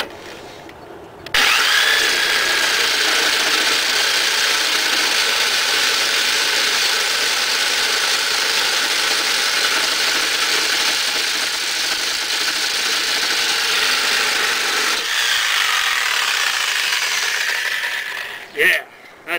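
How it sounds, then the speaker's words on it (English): Sawzall reciprocating saw cutting through a badly rusted part on a 1993 Craftsman, a steady loud buzzing rasp running continuously for about fourteen seconds before cutting off. "It's rusted really bad, so I'm going to resort to the Sawzall to get it off."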